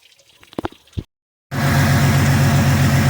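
Water flushing through a pickup truck's cooling system with the engine running: a few clunks and splashes, a short silence, then a loud, steady idling drone with rushing water.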